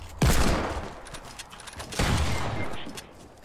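Hand cannon shots ring out in the Fortnite Battle Royale video game, two heavy booming blasts about two seconds apart, each followed by a rumbling tail, loud and close with no speech.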